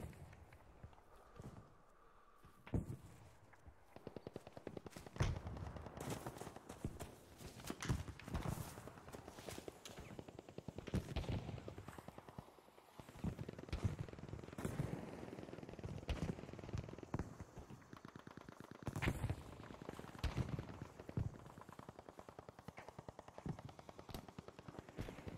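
Gunfire in Battlefield 5 multiplayer, rapid bursts and single rifle shots cracking at irregular intervals amid game ambience and running footsteps.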